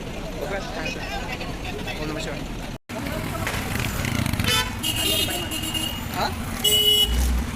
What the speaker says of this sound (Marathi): ही आमची गाडी येते आहे